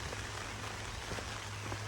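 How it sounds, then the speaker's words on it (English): Rain falls steadily outside a vintage camper van at a wild camping spot in Scotland, a dense, even hiss of drops close by with a low hum underneath and no voices. "It is raining, so it's not the best weather for it."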